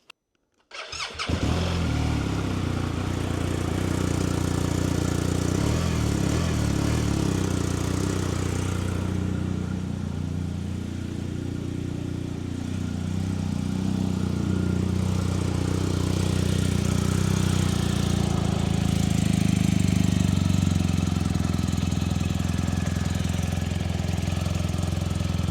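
Car engine with freshly repainted valve covers cranks and catches, then settles into a steady, fairly loud idle that runs evenly close by with slight swells in level.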